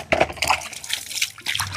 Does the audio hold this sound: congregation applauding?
no